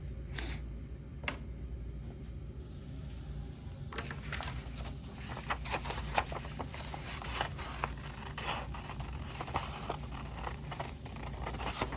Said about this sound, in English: Now I need to cut it.